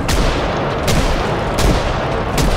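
Gunfire in the zombie survival game Project Zomboid, several loud close shots in an uneven rhythm over a dense, noisy game soundscape.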